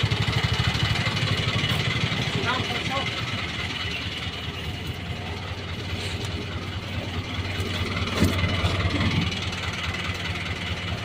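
A 4x4 tow vehicle idles with a steady low engine rumble and light knocking beneath ongoing conversation close by.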